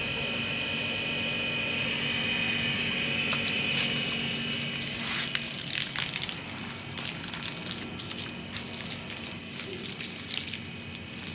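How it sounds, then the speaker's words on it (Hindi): Steady gushing rush of water poured over plants in an outdoor garden bed, continuous and fairly loud throughout with sharper splashing bursts in the second half. "पानी दे रहा हूँ।"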